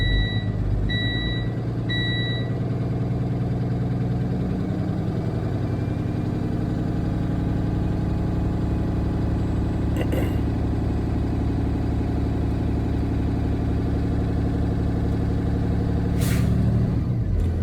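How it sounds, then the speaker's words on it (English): A truck's engine idles steadily as its air brake system builds toward full pressure, with brief reversing-style beeps near the start and short hissing bursts partway through and near the end. "I'm going to build the air up to full pressure above 120."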